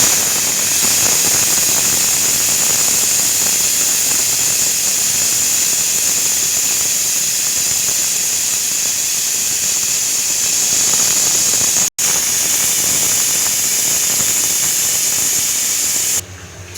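Steady, loud hiss of steam escaping a pressure cooker holding tomato pappu with tamarind, onion, chilli powder and turmeric, a continuous broadband jet with a brief dropout near the end.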